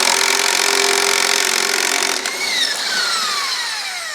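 A Makita power tool whirs steadily at close range while loosening a tight bolt on a Honda B18C1 engine, its pitch dropping and sliding downward as the tool bogs and the bolt breaks free about halfway through.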